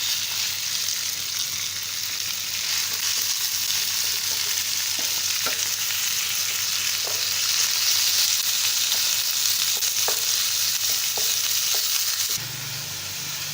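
Chicken mince frying with browned onions for Chap Shoro, a traditional Naghar dish: a steady close hiss with scattered crackles and occasional spoon scrapes, loud and continuous without talk, briefly dropping near the end.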